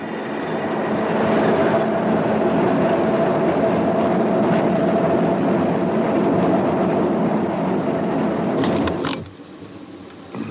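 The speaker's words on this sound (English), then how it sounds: "we have the real sound of a subway train" Steady roar and clatter of a subway train running beneath a film scene, loud and continuous for about nine seconds before dropping away sharply near the end.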